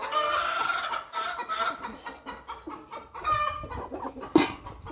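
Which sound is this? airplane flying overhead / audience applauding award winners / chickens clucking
chickens clucking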